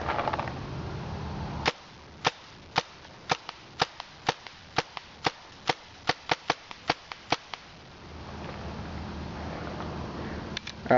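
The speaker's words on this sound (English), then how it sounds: "I'm going to go ahead and fire a couple shots." JT Tactical paintball marker firing: about sixteen sharp, loud pops in an irregular quick series over several seconds, each standing out against quiet outdoor background noise.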